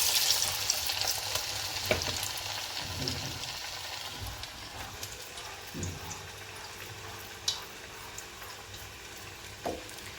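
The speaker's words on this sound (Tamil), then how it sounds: "நம்ம வடை போட்டுக்கலாம். எண்ணெய் காஞ்சிருச்சு." Lentil vada frying in hot oil, with a steady close crackling sizzle and occasional clinks and scrapes of a utensil.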